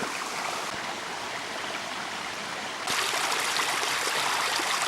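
A small stream flows toward a railway water-supply intake, a steady broadband rushing and trickling that grows louder partway through, with no voices.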